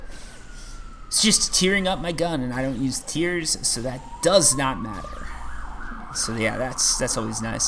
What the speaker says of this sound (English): you can hear a nice little siren going by back there